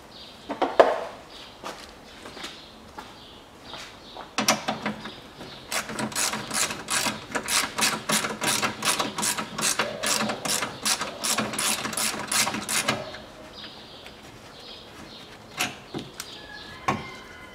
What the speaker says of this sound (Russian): Откручиваем кронштейн, который у нас держит шланг кондиционера.